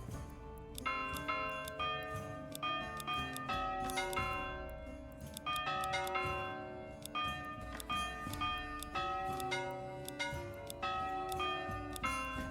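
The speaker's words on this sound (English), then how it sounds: "Just needs one lower bell sound." Bells from the medieval village-building game Manor Lords ring out a melodic tune of repeated bright struck notes, steady and fairly loud throughout, with overlapping decaying tones and no talking.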